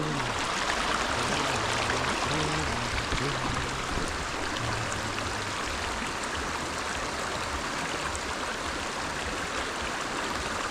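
A river flows beside farmland in Kenya. Water rushes steadily and fairly loudly throughout, with a constant broadband murmur and no pauses.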